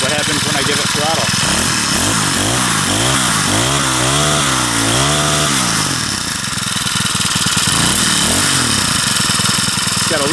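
A Craftsman 4-cycle string trimmer engine runs loud and close, its pitch rising and falling through several throttle blips before settling into a steady, rough high-revving drone with a slight hesitation.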